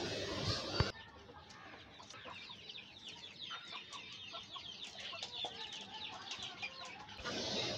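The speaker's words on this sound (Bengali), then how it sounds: "এই মুরগিটি এই ঝুড়িগুলো ছাড়া অন্য কোথাও বসছিল না, তাই আমরা একে এখানে ডিম দিয়ে বসিয়ে দিলাম।" A desi hen brooding eggs in a basket on a sunny rooftop gives repeated soft, close clucks in an irregular run, with a brief louder rustle at the start and end.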